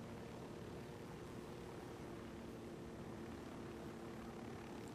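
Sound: helicopter flight in video game Ghost Recon Wildlands

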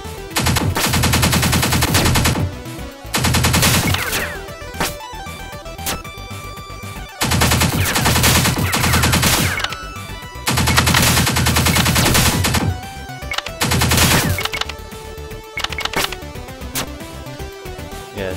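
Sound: gunfire in video game Pineapple Smash Crew

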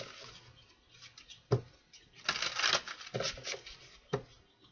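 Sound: shuffling a deck of cards

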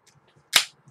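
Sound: flip-top beer bottle being opened

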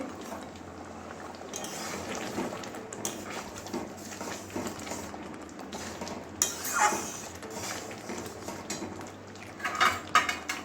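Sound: stirring garam masala into mung dal with spoon

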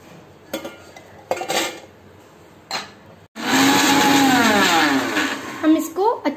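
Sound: mixer grinder grinding cookies

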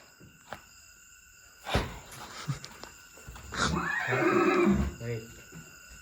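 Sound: horse neighing

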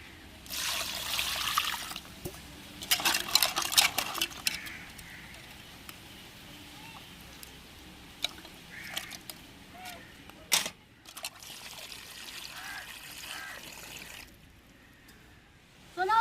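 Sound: water poured over crab while washing it

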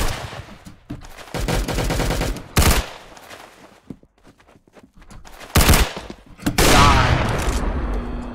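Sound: gunshots in the video game Roblox Arsenal

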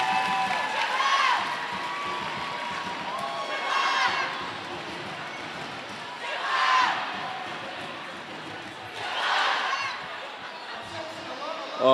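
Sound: roller derby crowd cheering

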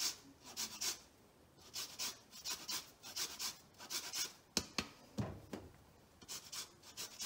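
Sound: zesting limes on a grater

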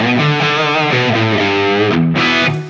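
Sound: electric guitar through IK Multimedia TONEX amp capture

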